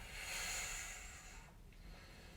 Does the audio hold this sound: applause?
no